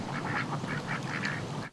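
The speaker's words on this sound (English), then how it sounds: "My neighbor's ducks." A neighbor's ducks in Slidell, Louisiana quack repeatedly in a quick run of nasal calls, fairly close and clear, stopping abruptly at the end.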